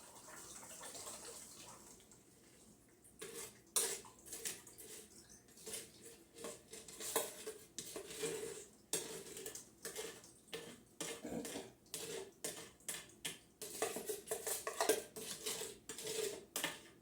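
A sugary, salty soap mixture for cherry lavender soap is poured and worked through a kitchen strainer, giving faint, irregular metallic scrapes, taps and clinks with trickling liquid, close up and with no talking.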